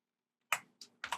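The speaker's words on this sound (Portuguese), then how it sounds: "Tô digitando tudo na mão pra decorar aqui." Computer keyboard typing while writing code with the Meteor JavaScript framework: three short, close bursts of crisp key clicks after a moment of silence, with no talking.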